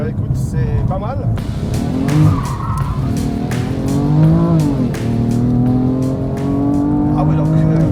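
A BMW M3 sports car with a manual gearbox is driven hard on a track. The engine revs high and rises and falls while the tires squeal, and someone talks over the noise inside the car.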